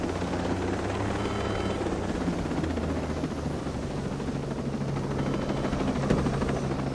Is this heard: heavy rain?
no